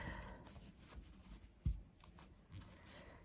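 A deck of playing cards, shuffled by hand at close range, makes soft riffling and sliding rustles with one sharp tap of the stack, all quiet and with no voices.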